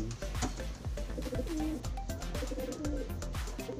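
Pigeons coo repeatedly in a steady rhythm, several birds calling close by with overlapping low, throaty notes and no speech.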